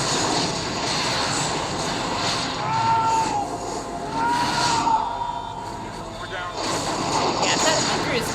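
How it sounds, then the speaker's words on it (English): Explosions in the movie Armageddon make a sustained, heavy rumbling roar with surging bursts and an engine-like drone, loud and dense throughout. "Already another gigantic explosion."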